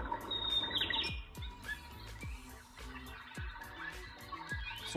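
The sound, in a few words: sparrows or finches singing from an LED night lamp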